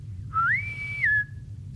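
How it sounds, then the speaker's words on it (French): Whistling door in the Star Trek: 25th Anniversary game, a single clean rising-then-falling whistled tone lasting about a second over a low hum, with no talking. "Comme la porte qui sifflote quand le capitaine entre."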